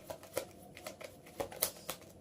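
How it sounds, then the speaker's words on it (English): Tarot cards are shuffled by hand in soft, irregular riffles and flicks, quiet and close, with no talking. "I'm not much of a talker when I'm doing the shuffling"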